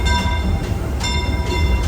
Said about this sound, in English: Oh, there comes the train.